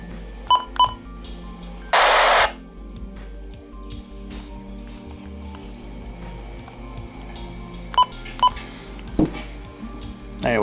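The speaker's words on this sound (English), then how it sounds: "So, those are the button beeps." Short electronic button beeps from a Sima FirstAlert WX-67 weather radio, a few clear tones scattered across a quiet room with faint background hiss and one longer beep.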